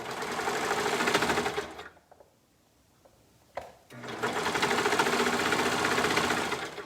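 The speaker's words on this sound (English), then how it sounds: "I'm going to stretch and sew the cuff onto the bottom of the sleeve" Sewing machine stretching and sewing a cuff onto the bottom of a shirt sleeve, two long loud runs of rapid stitching separated by a brief pause with small handling clicks, close up.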